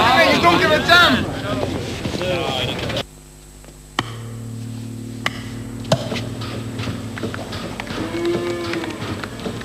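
Cattle on a farm give low moos amid gusting wind noise, with people talking nearby in the first seconds before a quieter stretch of distant lowing.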